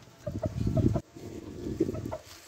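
A young laying hen clucks softly up close in a run of short, low notes, with a brief pause partway through before she carries on.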